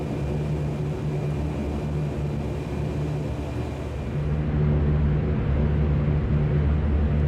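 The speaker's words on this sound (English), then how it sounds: "We are approaching the start of runway 26 for takeoff." Fokker 50 turboprop airliner taxiing toward runway 26 at Stockholm Arlanda, heard from inside as a steady, loud engine drone and rumble with a constant hum, swelling slightly toward the end.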